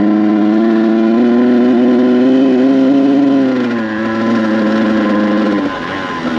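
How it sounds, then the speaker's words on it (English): A Kawasaki KX100 two-stroke dirt bike fitted with a paddle tire struggles through soft sand, its engine holding a loud, strained, buzzing drone that wavers in pitch, then drops and bogs near the end. "This bike is struggling."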